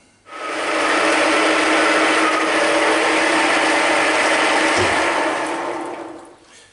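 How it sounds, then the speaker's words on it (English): A continuous loud whirring grind of a drill boring into metal, running steadily for several seconds before winding down. "Let's drill this."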